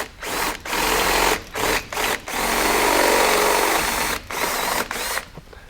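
Power drill with a 1/4 to 3/16 inch bit drilling out rivets on Can-Am X3 skid plates, loud close whirring and grinding bursts broken by short pauses, with no talking.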